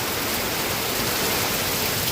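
Heavy monsoon rain driven by strong wind pours down in a continuous loud broadband hiss, unbroken and dense throughout, with no talking heard.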